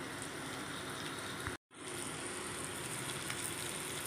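Dried fish frying in oil in a pan gives a steady, soft sizzle that drops out for a split second and then resumes, with no voices.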